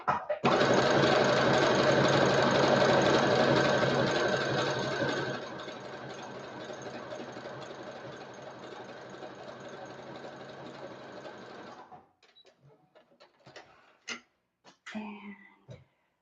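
A sewing machine running an overlock-style stitch (stitch number 7) while a Harley Quinn costume is made. It whirs steadily and loudly for about five seconds, drops to a quieter continuous hum, then stops, followed by scattered clicks and handling noises.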